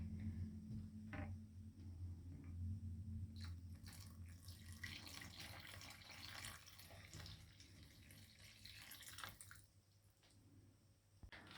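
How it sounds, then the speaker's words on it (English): Water runs steadily from a tap into a bread mix of yeast, sugar and olive oil, splashing and gurgling as it fills, with faint background hum and no talking. "And I'll add in the water."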